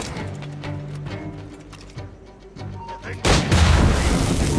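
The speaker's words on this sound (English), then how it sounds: "causing a big explosion" A big, booming explosion erupts in Assassin's Creed 4 Black Flag during a Templar Hunt bureau attack, a sudden loud blast with a sustained roar after brief shouted game dialogue and background music.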